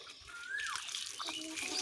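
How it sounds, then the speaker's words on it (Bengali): Water splashing and trickling over a goat being washed, a faint, close wet spatter with a brief rising squeal partway through. "খাসিটা জল দিয়ে ধুবা লাগছো আর কি"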